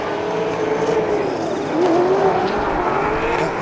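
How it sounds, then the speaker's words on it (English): At a D1NZ pro championship drift event at Hampton Downs, a drift car revs hard and its tires squeal through a turn, loud and near, with the engine note rising and falling under commentary. "Andrew Redwood on song today as they come into the second turn here at Hampton Downs"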